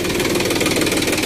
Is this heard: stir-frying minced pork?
no